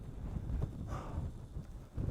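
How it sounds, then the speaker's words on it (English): A warm gust of wind buffets the microphone on the summit of Beinn a' Ghlo, giving a close, low, rumbling rush that rises and falls for about two seconds, with no speech. "We've got a wee gust, but it's not a cold one. It's actually quite a nice wee warm breeze that."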